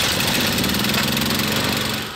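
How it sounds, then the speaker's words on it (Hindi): A loud, steady engine drone with a throbbing hum, like a generator running close by without pause. "जनरेटर"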